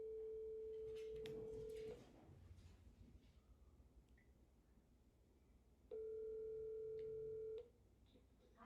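A telephone ring tone for a call to a university financial aid office sounds in two steady electronic bursts, the first about two seconds long and the second after a pause, loud over a quiet room hiss.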